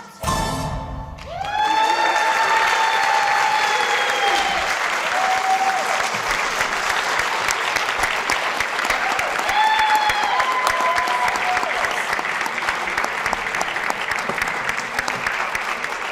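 Loud, sustained audience applause fills a hall for the Coppell Children's Choir after its Hamilton medley, dense clapping with a few whoops and cheers, following the choir's last sung note.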